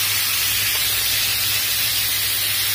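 Chicken pieces sizzle loudly on a hot tawa just after being flipped for barbecue chicken, a steady close hissing spray of frying fat with a low hum beneath and no talk.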